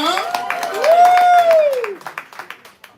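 An audience at a live poetry slam in Houston applauds and cheers for a poet, with dense clapping under a sustained whooping voice that rises and falls, then thins into scattered claps.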